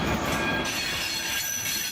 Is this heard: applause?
no